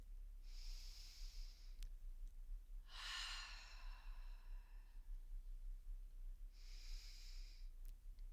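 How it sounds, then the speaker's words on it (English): Slow deep breaths in and out, a soft airy inhale and exhale repeated about three times at close range, with no talking during the breathing. "Let's take a deep breath together."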